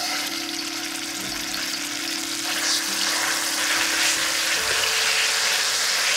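Doubanjiang chili bean paste frying in hot oil in a wok, a steady close sizzle with a broad hiss that swells slightly louder toward the end, no voices.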